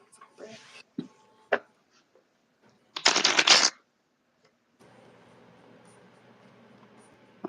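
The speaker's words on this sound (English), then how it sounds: "I'm going to mute while I'm shuffling." A deck of tarot cards is shuffled in short, crisp riffling bursts, with a loud flurry in the middle, then a quiet hiss after a pause.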